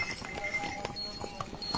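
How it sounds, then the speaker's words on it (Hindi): Horses and mules walking the mountain footpath to Kedarnath, hooves clip-clopping on the stone trail in an uneven rhythm, close by, over busy outdoor background noise with bell-like tones. "और ये घोड़े खच्चर आप देख सकते हैं।"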